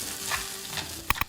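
Food sizzles and crackles steadily in a hot Korean stone pot (dolsot), and two sharp clinks or taps land near the end over the constant frying hiss.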